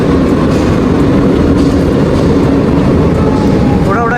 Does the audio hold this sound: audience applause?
no